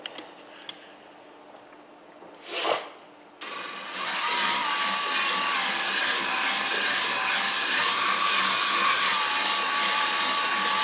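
A Lisle 16000 hone cuts into an aluminum engine cylinder bore. After a few quiet ticks and a brief whoosh, a loud steady whirring grind starts and runs continuously, close up and without talk.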